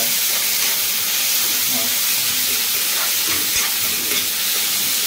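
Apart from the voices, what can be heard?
tomatoes added to frying onions, sizzling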